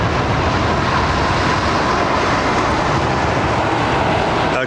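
An Air Baltic Airbus A220, the former Bombardier CS300, arrives on runway 27R at London Heathrow. Its loud, steady broadband jet roar holds level throughout with no pauses.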